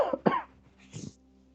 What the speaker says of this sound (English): I'm just going to cough for a second.